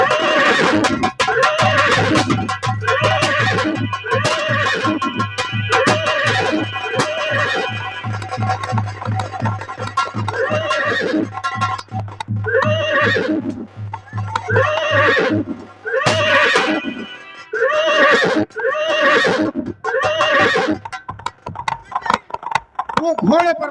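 Horses neigh and whinny repeatedly over a galloping hoof rhythm and a steady low drone, loud and close, in a dramatic Hindi story scene with no clear talk.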